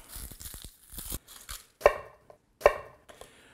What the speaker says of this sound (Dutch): We gaan er een ajuintje in snijden.